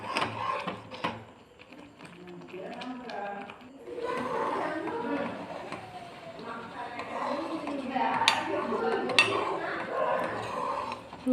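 Spoon scraping and clinking against a pan while thickening mango halwa is stirred, steady soft strokes running under ongoing talk.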